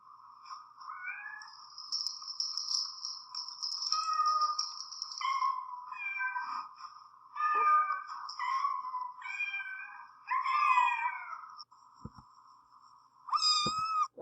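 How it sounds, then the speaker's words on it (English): Several cats meow repeatedly from a played recording, a run of clear, drawn-out mews and short calls one after another with brief pauses, including a higher kitten-like cry near the end, and no talking. "Listen to those cats."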